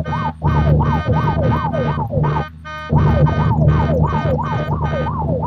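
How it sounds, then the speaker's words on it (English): A loud electronic ambulance siren in the video game Unturned wails in rapid repeating sweeps, cutting out briefly twice before resuming, with no voices over it. "Sirens activate."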